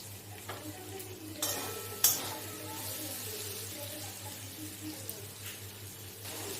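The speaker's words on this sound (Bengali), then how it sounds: "এবার এর মধ্যে দিয়ে দেবো কাজু বাদাম কিছু এরপর দিয়ে দিলাম সেরা কাঁচা লঙ্কা" Cashews and green chillies are tipped into a pan while making savoury broken-wheat dalia, giving a brief hissing burst and a few faint clinks over a low steady hum, quiet and close.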